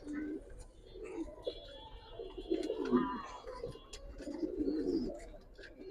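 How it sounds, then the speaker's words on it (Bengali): Giribaz pigeons, colored high-flyers, coo softly and continuously at close range. Their low, throaty rolls repeat over a quiet background with faint chirps. "চলুন কবুতর দেখানো শুরু করি জিরা গলা কবুতর দেখেন"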